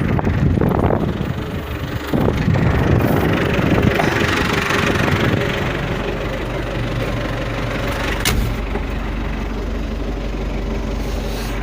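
A tractor engine idles with a steady low rumble, mixed with gusty wind buffeting the microphone early on; no one speaks.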